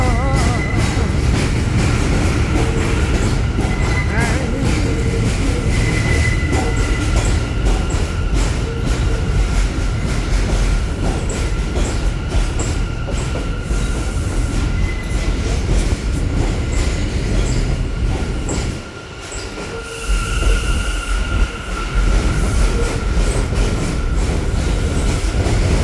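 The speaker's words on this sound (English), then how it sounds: "here comes the train. New York City train. Yes, it's the J train." A New York City J subway train pulls into a station, a steady loud rumble of wheels and rail noise running throughout with a brief dip in the low roar near the end, no talk over it.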